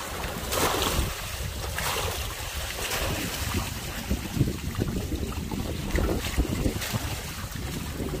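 A catamaran sails fast under strong wind, with loud, steady wind buffeting and rushing water and hull noise filling the whole stretch, close and continuous.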